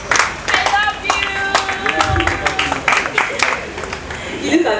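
An awards ceremony audience claps steadily, many hands producing a dense, sustained patter with some sharper individual claps, loud and close throughout.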